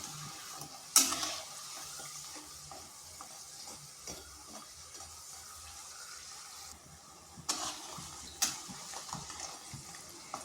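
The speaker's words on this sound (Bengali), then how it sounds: "এগুলোকে নেড়ে চেড়ে এইভাবে একটু লাল লাল করে ভাজবো।" Semolina pieces frying and being stirred in a pan give off a faint, steady sizzle, with a few sharp scrapes and clinks of the utensil against the pan.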